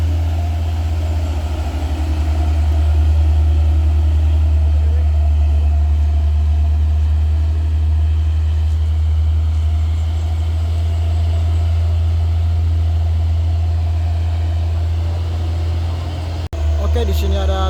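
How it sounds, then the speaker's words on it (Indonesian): Mitsubishi Canter truck engine running at the foot of the Kedabuhan hill before the climb, a loud deep steady low rumble, with faint background noise and an abrupt thump near the end. "Oke, di sini ada truk canter"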